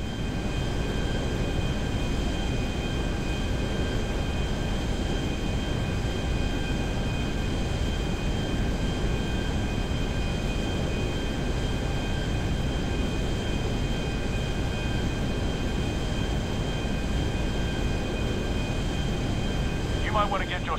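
In GTA Online's Cayo Perico Heist, a plane's engines drone steadily in flight, a loud, continuous broadband roar with a faint tonal whine that persists throughout.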